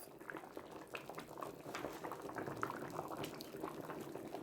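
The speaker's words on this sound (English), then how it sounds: "I'm going to go ahead and turn it down to a simmer instead of a boil." Seafood gumbo broth boils in a pot with a faint, steady bubbling and soft popping, close and continuous with no talk.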